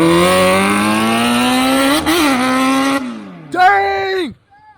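A 200 HP hybrid cross-kart accelerates hard, its engine whine climbing steadily, dipping, then surging again in a sharp rev before cutting off; loud and close, with exclamations from the driver.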